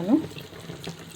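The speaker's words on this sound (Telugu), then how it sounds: "కొన్ని వాటర్ యాడ్ చేస్తున్నాను." Water poured into egg curry cooking in a pan, a brief splash at the start followed by a soft liquid hiss and low background noise.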